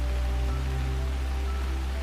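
Rain falls steadily in a woodland of oak and moss, a dense, even hiss with a low, constant hum underneath.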